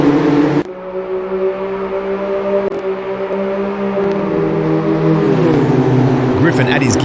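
BMW M2 CS race cars launch from a standing start at the beginning of a race, a dense roar of several engines rising and revving together, sustained and loud, with commentary talk over the top.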